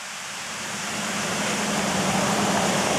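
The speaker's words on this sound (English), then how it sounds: "see just the water cascading it" Water cascades steadily over the Six Mile Creek aqueduct on the Miami and Erie Canal, a continuous broad rushing roar that swells slightly at first and then holds even and close, with no talking.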